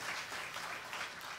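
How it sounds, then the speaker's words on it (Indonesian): Congregation applauding during an online church service, a steady dense wash of clapping throughout with no voices over it. "Tepuk tangan sekali lagi untuk teman-teman yang mengisi kesaksian pujian."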